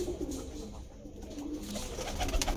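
Pigeons coo low and continuously against a busy background hum, several soft overlapping calls with a slight rise toward the end and no talking.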